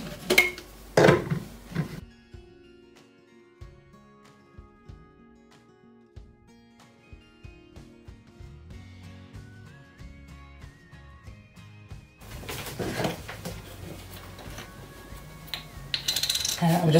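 Fenugreek and banana for a homemade hair conditioner are combined in kitchen containers, giving sharp clinks and rattles at first. A quieter stretch follows, then a rougher, louder burst of clattering and churning near the end.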